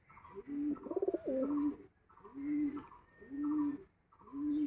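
A clipped-wing breeder pigeon that has just raised eggs and chicks coos close by in several rhythmic, throaty rounds, each a rolling low call with a brief pause between.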